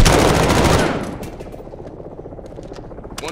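Automatic gunfire in Call of Duty Modern Warfare 2019, a loud dense burst of rapid shots up front that drops to scattered quieter pops and combat noise, with faint voices underneath.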